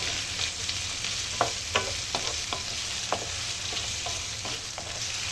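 Chayote being stir-fried for chop suey, a steady sizzle in the pan with several sharp spatula scrapes and stirring knocks spaced through the clip.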